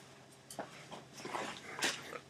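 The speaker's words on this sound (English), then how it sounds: "That's Harry the Bitcoin dog." Harry, a pet dog let out indoors, gives soft whimpers and small yips in a few quick bursts, close but fairly quiet against a faint room hiss.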